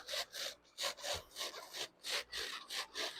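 Handsaw cutting into wood in steady back-and-forth strokes, about eight rasping passes at an even rhythm, close and fairly loud with no talk.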